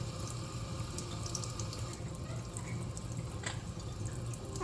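Tap water running for a parrots' bath, a steady soft splashing hiss that carries on without a break, faint and close.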